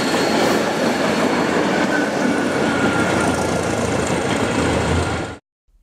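A diesel train in yellow livery rumbles and clatters along the track at close range, loud and continuous, then cuts off abruptly near the end.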